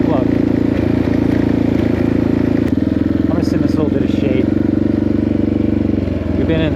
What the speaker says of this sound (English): I need to open her up and I need to turn off while we're at max throttle